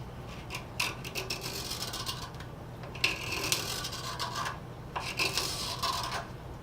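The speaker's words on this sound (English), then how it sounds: "we go back to our handy piece of poplar. And now we're actually taking shavings." Hand scraper pulled across a piece of poplar, taking shavings in bursts of dry, scratchy rasping strokes, some short and some drawn out, close up and with nobody talking.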